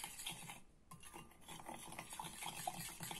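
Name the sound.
stirring puffy paint mixture in a bowl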